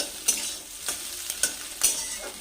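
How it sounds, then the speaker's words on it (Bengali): A spatula breaks up fried egg bhujia in a hot pan. Four or five quick scraping strikes against the metal land over a low background sizzle, close and moderately loud, with no voices. "ডিমের এরকম করে ভেঙে দেবে ছেচকি দিয়ে"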